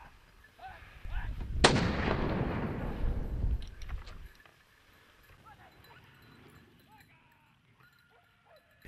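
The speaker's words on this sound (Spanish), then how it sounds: "Esta vez, Carlos ha necesitado dos disparos para quedarse con el jabalí" One loud gunshot cracks outdoors during a wild boar hunt and rolls away in a long echoing tail, leaving quiet open-air ambience.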